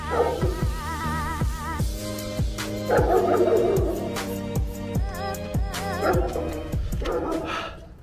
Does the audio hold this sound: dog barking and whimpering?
yes